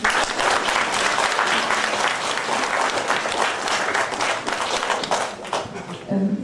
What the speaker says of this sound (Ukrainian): Чудові авторські роботи, ваші оплески.